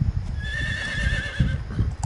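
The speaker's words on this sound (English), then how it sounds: "Oh hey, a white horse." A white saddled horse in the stealth video game Metal Gear Solid 3 gives a loud, close whinny that rises and wavers for about two seconds, with the thud of hooves underneath.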